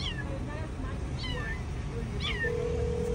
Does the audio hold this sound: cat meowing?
yes